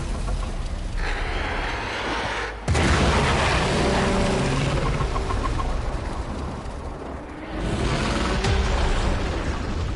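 A loud, sustained burst of game explosion noise in Warframe, with a sharp onset followed by dense rumbling debris and mechanical clatter that dips briefly, then swells again.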